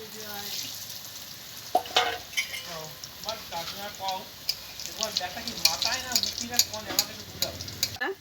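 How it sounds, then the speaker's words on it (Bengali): Breaded egg chops sizzling in hot oil in a pan, a soft steady fry with clinks and scraping from stirring and turning, with some faint background voices. "তেল গরম হয়ে গেছে দেখুন আমি চপগুলোকে ভেজে নেব"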